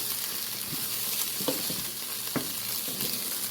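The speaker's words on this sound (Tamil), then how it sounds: "வெண்டிக்காய் வதங்கினோடனே கடைசியாக சிறிதளவு தேங்காய்ப்பூ கலந்து கிளறுவோம்." Okra stir-fried with grated coconut in a pan gives a steady close sizzle, with a few soft scraping stirs of a utensil against the pan.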